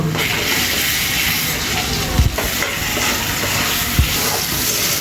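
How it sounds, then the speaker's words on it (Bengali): A paste of ginger, garlic, cumin, coriander and garam masala frying in a pan gives a loud, continuous close sizzle and hiss, with a couple of dull spoon knocks as it is stirred. "রসুন বাটা, জিরে ধনে বাটা, গরম মশলা বাটা একসাথে দিয়ে দিয়েছি। এবার ভালোভাবে নাড়িয়ে নেব।"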